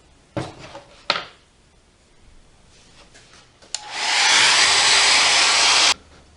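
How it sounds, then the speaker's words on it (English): A couple of sharp knocks, then a hair dryer switches on to dry paint on a small snowman craft, blowing with a loud, steady whoosh for about two seconds before cutting off. "I'll speed it up by using a hairdryer on it."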